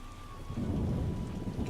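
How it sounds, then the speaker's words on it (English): Rain and rolling thunder in The Witcher video game, a low rumble swelling over steady rainfall in a short, dense burst with no voices. "10 o'clock in the morning and raining like that, eh?"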